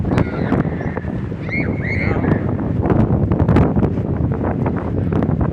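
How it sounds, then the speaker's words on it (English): Strong wind buffets an outdoor microphone with a steady, loud roar and gusty rumble throughout, with a few faint chirping sounds above it. "It's windy as hell."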